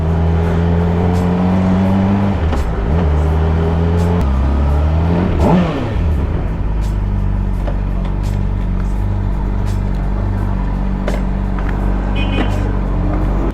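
A Honda CBR600RR 600cc motorcycle engine runs loud and close, revving and shifting through the gears with rising and falling pitch sweeps over a steady drone.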